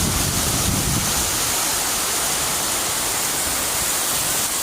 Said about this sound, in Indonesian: Hujan cukup deras mengguyur Yogyakarta ya. Hujan angin. Ya. Anginnya cukup kencang sekali.